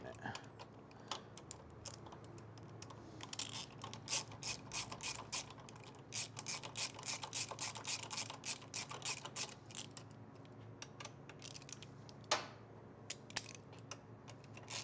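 Rapid clicking of a ratchet tightening a screw on a 2021 Kawasaki ZX-10R motorcycle, close up, in bursts of repeated ticks with brief pauses and one sharper click near the end, no talk.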